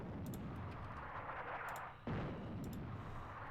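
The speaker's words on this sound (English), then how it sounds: "This is the artillery here." Artillery booms in the war game Attack at Dawn: North Africa, a deep rumbling barrage of low thuds under steady noise, with one sharper blast near the middle and faint high clicks at intervals.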